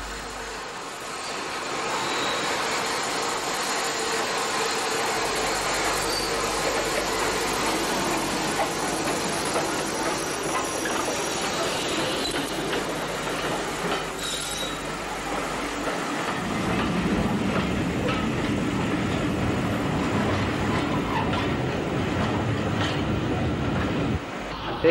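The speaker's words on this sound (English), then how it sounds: "West Country 34093, Taunton, heads a Bournemouth service out of the station and onto the viaduct." Steam locomotive West Country 34093 Taunton hauling a Bournemouth service out of Waterloo station onto a viaduct, a continuous rolling rumble with rail clatter that swells louder toward the end.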